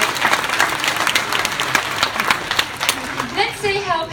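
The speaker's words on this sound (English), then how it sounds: "Yes, you can give a big clap" Crowd of zoo visitors clapping for Pepper the seal at Taronga Zoo, an uneven scattering of handclaps with a few distinct sharp claps, mixed with voices and chatter throughout.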